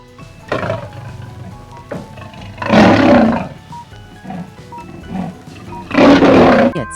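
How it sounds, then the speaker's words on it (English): A lion roaring, two long rumbling roars a few seconds apart with softer grunting breaths between them, loud and close, with no voices. "It's lion."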